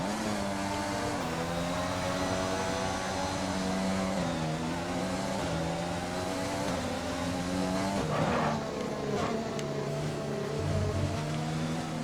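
An F1 car in a racing video game screams at high revs on a wet Canadian Grand Prix track, engine pitch rising and dropping through gear changes before a sudden skid and impact.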